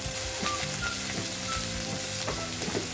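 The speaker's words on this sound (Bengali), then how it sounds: "লবণ আর হলুদ দিয়ে আলুটা লাল করে ফ্রাই করে নেব আলুগুলো দিয়ে দিলাম" Potato pieces frying in hot oil with salt and turmeric, a steady loud sizzle with occasional scraping stirs, close up and without any voices.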